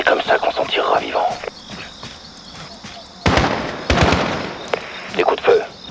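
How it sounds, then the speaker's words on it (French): Rapid bursts of gunfire in a Call of Duty: Modern Warfare video game crackle in uneven volleys, loud and close, with voices talking between and over the shots. "Des coups de feu, on y va."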